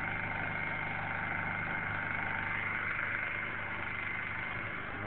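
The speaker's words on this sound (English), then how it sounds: "Generator shack." A generator running inside a small shed beside a cabin, a steady droning engine hum with a low even rumble that holds constant throughout, moderately close.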